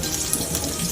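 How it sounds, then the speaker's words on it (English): Hot water pouring off a pot of boiled potatoes into a sink, a steady close splashing rush that holds even for the full second with no talk. "rinse out the hot water"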